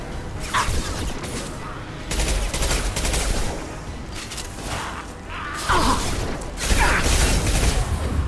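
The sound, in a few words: gunfire in the video game Mass Effect 2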